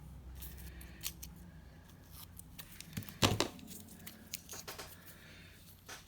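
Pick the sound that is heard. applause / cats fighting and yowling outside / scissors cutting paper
scissors cutting paper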